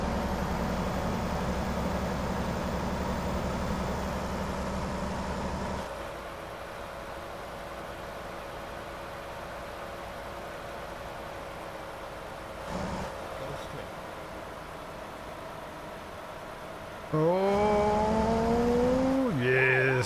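A truck engine hums steadily in American Truck Simulator, dropping in level as gears shift, with a whining rev-up near the end while someone talks over it.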